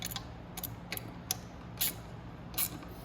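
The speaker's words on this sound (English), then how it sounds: "we're just going to tighten up that bolt" Bolt tightened on the shifter shaft of a Venom Sportster 250cc chopper, heard as a series of faint, sharp metallic clicks and ratchet-like ticks spaced irregularly over a few seconds in a quiet space.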